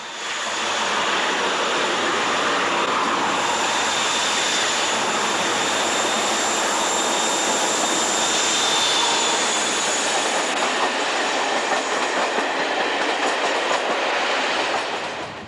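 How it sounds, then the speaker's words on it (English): British Rail diesel locomotive 45070 pulls a northbound express away from Teignmouth, a loud, steady roar of engine and rolling stock with rail clatter and a faint high squeal, sustained and close throughout. "45070 departs Teignmouth with the northbound express"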